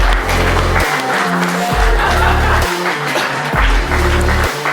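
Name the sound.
audience applause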